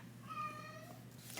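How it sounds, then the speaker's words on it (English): A cat meows in the background, one drawn-out harmonic call lasting about a second over a low steady hum, faint and a little distant. "That's my cat Ernesto in the background."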